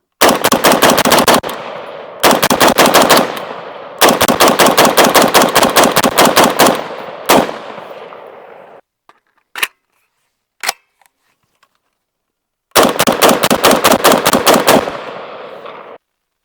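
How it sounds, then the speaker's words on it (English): An SG36 rifle fires rapid bursts downrange at an outdoor range, loud and close, in several strings of quick shots with brief pauses and a few lone shots between them. "We're gonna dump it downrange, but this gun has been running pretty well so far."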